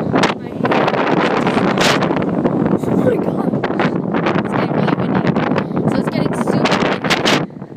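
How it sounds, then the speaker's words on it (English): Strong storm wind gusting straight into the microphone during a Southern California storm, loud continuous buffeting rumble with bursts, while people talk excitedly over it. "And there's like a huge storm coming in."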